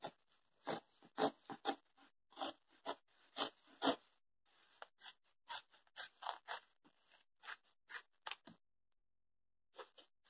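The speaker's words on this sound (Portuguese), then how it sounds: "Então vamos cortar, deixando aqui esse espaço aqui" Scissors snipping through tricoline cotton fabric for a patchwork fish-shaped rug, heard as a close series of crisp, rhythmic cuts in quick bursts, then a pause and two final snips, with no talking.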